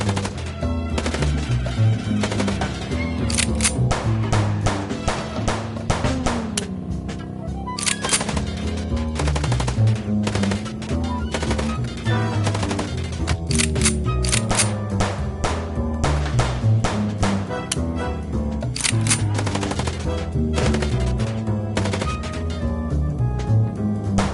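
Sustained rapid gunfire in the video game Chicken Police, dense bursts of automatic shots with sharp individual cracks over a loud continuous backdrop of game music and action, steady intensity throughout.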